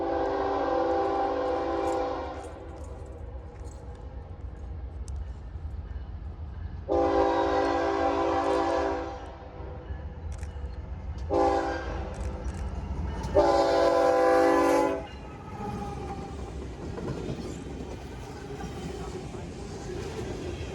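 A train rumbles past in the Pittsburgh area with several loud horn blasts of varying length, the low engine drone continuing underneath.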